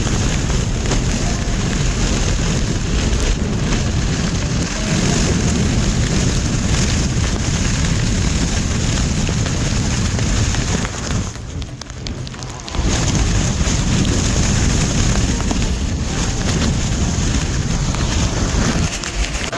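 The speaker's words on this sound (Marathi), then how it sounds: "इथे हवा बघा किती आहे हवा" Strong wind roars continuously across the microphone on a cold, rainy pilgrimage walk to Shirdi, a dense rushing buffet that only briefly eases before surging back.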